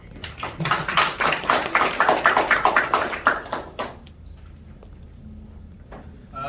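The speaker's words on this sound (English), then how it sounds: "Please give him a round of applause." Audience applause at a hotel safety induction for Global Safety Day, a burst of many hands clapping loudly for about four seconds, then fading to a quiet room.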